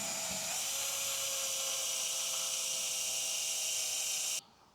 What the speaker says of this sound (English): As we're through and drilling